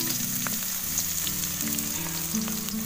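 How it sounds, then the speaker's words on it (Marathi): Onion and garlic frying in hot oil, added to a tempering of mustard seeds, chilli and cumin: a close, steady sizzle running throughout over a low background hum, with no talk. "आता हे कांदा आणि लसूण टाकते."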